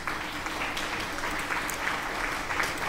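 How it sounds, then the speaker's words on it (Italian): Steady applause from many hands in World of Tanks, a dense crackling clatter that holds evenly from start to finish. "Applausi."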